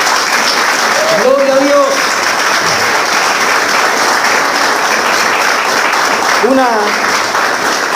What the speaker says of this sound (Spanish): Denle un fuerte aplauso a su Señor.